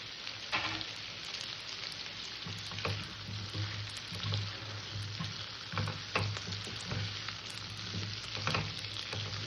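Pumpkin pieces frying in a pan with cumin and ginger, a close, dense sizzle with crackles and spatters throughout and a faint low hum underneath, no voices.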